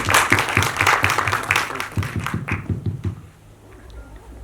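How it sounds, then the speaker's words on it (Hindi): An audience at a Hindi film trailer launch applauds loudly with dense clapping that thins into a few scattered claps before fading to quiet room noise. "जोरदार तालियां होनी चाहिए फॉर कृतिक सर"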